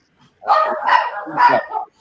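An excited pet dog gives a close, loud run of about three quick yipping barks in a row, heard alone with nothing else around them.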